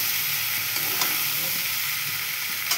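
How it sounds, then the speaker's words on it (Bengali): Fried snails being stirred with potato, eggplant, spinach and tomato in a pan, giving a steady close sizzle throughout with a few sharp scrapes of the spoon against the pan. "দিয়ে দেবো। দিয়ে এটাকে ভালো করে নাড়িয়ে নেব"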